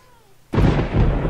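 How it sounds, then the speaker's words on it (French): Thunder from a storm in the Minecraft video game crashes in suddenly after a quiet half second, then stays as a loud, heavy rumble that holds steady to the end. "Oula, il y a de l'orage."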